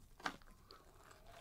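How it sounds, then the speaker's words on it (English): A leopard munching behind bushes, heard as one brief crunchy bite near the start followed by faint, soft chewing noises at low level. "Oh, it's a munching sound."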